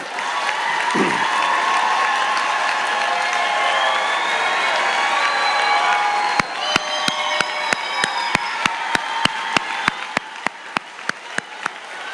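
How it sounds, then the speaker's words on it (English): Graduates and guests at a fall graduation convocation burst into applause with cheering and whoops, a big crowd roar that later thins into a few loud, evenly spaced claps from someone close by. "We can start this party with a big round of applause."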